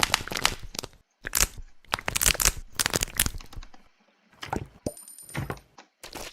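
Keyboard in the Roblox game ASMR Tower, sharp clacky keystrokes arriving in quick irregular bursts separated by short pauses, close and fairly quiet.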